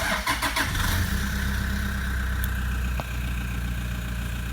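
A car engine cranks briefly with a rapid rhythmic churn, catches and settles into a steady, close idle hum, with a small dip near the end.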